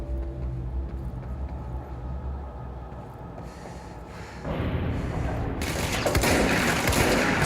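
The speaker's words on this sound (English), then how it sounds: "That guy shooting at me scared the shit out of me." Enemy gunfire in the game Control: rapid bursts of shots that start in the distance and grow louder and denser, ending in a loud close volley.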